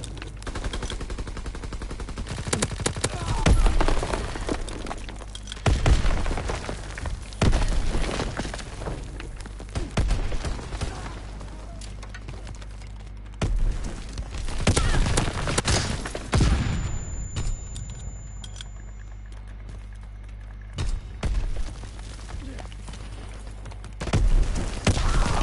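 Heavy bursts of gunfire and booming blasts in the World War II shooter Call of Duty WW2, where grenades are thrown upstairs; loud, repeated reports come in clusters separated by quieter gaps, with no talking.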